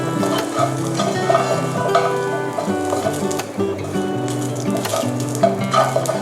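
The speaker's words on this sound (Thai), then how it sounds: "คั่วพริกกระเทียม เราแค่ใส่ลงไปแป๊บเดียวนะคะ ก็เริ่มมีกลิ่นหอมขึ้นมาแล้วนะคะ" Chilies and garlic dry-roasting in a pan for Thai nam prik pla thu, a steady close sizzle with occasional stirring scrapes and clinks.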